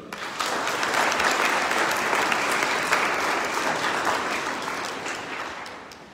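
Congregation applauding during a Sunday Mass for Lent in a parish church, a dense, steady round of clapping that swells quickly and slowly fades near the end.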